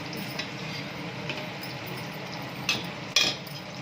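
A spoon stirs a henna leaf hair mixture in a bowl, with soft scraping throughout and a couple of brighter clinks near the end, close and fairly quiet.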